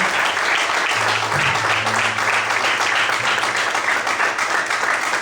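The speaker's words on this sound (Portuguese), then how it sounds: "Você pode desocupar a sua mão e assim aplaudir ao Senhor em forte alegria." A church congregation applauds in strong, steady clapping that fills the room without pause, with a faint low murmur beneath the dense applause.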